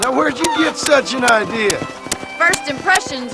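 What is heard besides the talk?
No distinct noise like a dog, phone or traffic.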